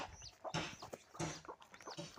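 A village desi hen sitting on her chicks clucks and squawks sharply in repeated close bursts, with brief pauses between calls.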